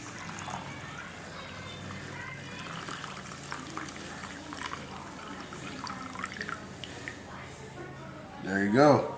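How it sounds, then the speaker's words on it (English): Coffee poured during a full-immersion brew with a coffee machine: a steady, soft liquid stream over a continuous background wash, swelling into a louder, rising gurgle of filling near the end. "All right, let's pour this coffee in."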